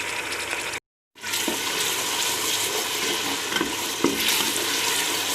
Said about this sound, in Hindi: मसाला थोड़ा अच्छी तरह से भुनें।